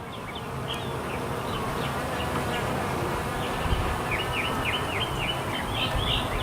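Honey bees buzz in a dense, steady hum during a hive inspection, close and continuous, with higher individual wingbeats whining in and out over the swarm.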